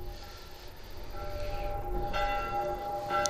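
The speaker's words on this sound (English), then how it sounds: "Church bells." Church bells ring in the video game The Last of Us, faint and distant tolls swelling gradually over a low ambient background with no talking.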